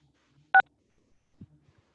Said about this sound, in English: please go ahead and hit *6 and that should unmute you